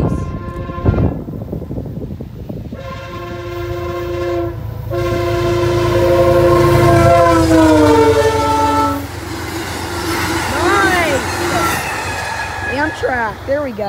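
An Amtrak passenger train rumbles past close by at a road crossing, sounding a long, loud horn in several blasts, followed by squealing wheels and rhythmic clatter as it goes.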